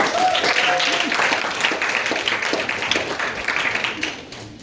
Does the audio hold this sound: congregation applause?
yes